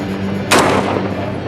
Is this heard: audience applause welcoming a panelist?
no